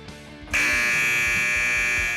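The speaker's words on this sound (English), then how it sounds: "Once a contestant rings his or her buzzer" A game show contestant's buzzer sounds after a brief hush, a loud, steady electronic tone that holds for about a second and a half without fading.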